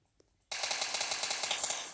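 Automatic M4 rifle fire in a mobile battle-royale shooter game: after a brief quiet lead-in, a loud, rapid, evenly spaced burst of gunshots runs continuously to the end, close and dominant.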